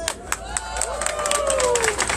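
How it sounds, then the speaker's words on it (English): Crowd at a migrants movement rally in Aotearoa cheering and clapping for a Colombian sister, a dense continuous wash of applause with whoops and shouts rising over it. "Give our Colombian sister a cheer there."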